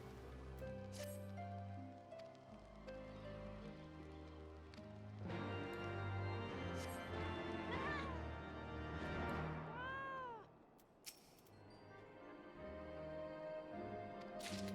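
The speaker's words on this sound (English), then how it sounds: "There's a quivering kitten up here." A kitten in Final Fantasy XIV lets out a few soft, plaintive meows, one rising and falling call after another. They sit faintly over quiet background game music, with no talk.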